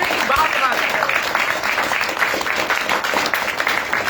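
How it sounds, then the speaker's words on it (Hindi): Thunderous applause rolls through a network marketing event at midnight, sustained dense clapping heard close and loud with voices mixed in around it. "रात के 12 बजे घनघोर तालियों की वर्षा हो रही है।"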